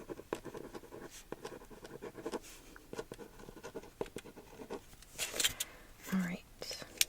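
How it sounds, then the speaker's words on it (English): A pen scratches across a paper list in soft, close strokes, with quiet whispered talk running over the irregular writing scratches and a few light rustles near the end. "Let me write this on the list."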